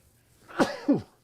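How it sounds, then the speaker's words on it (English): A single sneeze in two quick bursts, a sharp intake followed by an explosive release, close and fairly loud against a quiet room with no talking. "Had to sneeze."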